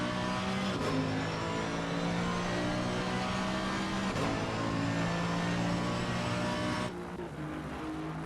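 A race car in a video game lapping Donington Park, its engine loud and continuous with harmonic tones climbing and dropping through upshifts and downshifts, easing off near the end.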